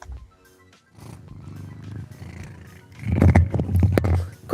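A cat purring loudly close to the microphone, a low, rumbling, continuous purr that swells in the second half with rough, fluttering bursts, with no speech.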